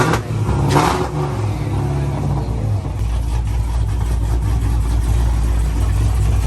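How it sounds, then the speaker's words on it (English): A Mustang engine with an aggressive cam rumbles loudly nearby on a cold start, building into a revving roar over a deep, steady low-end drone. "this guy just started his car and he's already revving it"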